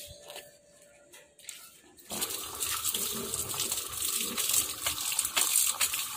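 Tap water gushes and splashes steadily as an item is rinsed out, starting abruptly after a couple of quieter seconds with faint clicks and drips.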